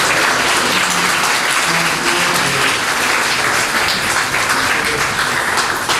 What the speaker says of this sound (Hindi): तो सबसे पहले आप खुद के लिए एक जोरदार ताली मारें